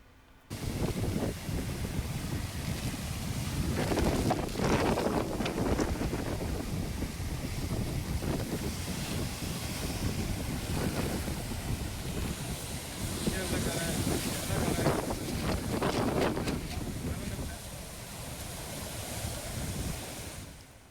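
Strong cyclone winds buffet the microphone while rough sea waves crash and roar continuously on a Tamil Nadu beach during Cyclone Ditwah, loud and sustained throughout.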